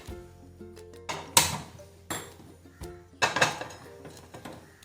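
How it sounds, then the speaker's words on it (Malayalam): A metal pan set down on a home gas stove while making bitter gourd thoran, giving several loud clanks and clatters at irregular moments between quieter kitchen handling noises. "ഇനി നമുക്ക് ഒരു പാൻ അടുപ്പിൽ വെച്ചിട്ട് ഗ്യാസ് ഓൺ ചെയ്യാം"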